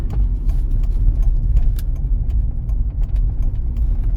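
Car pulling off a roundabout in Sarny, Ukraine during a driving exam route, with a steady low engine rumble and road noise throughout, and a few faint clicks in the cabin.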